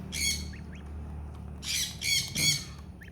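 A gray Chinese gosling gives several shrill squawks, one burst early and then three close together, over a low steady background hum.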